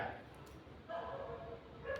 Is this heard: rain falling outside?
no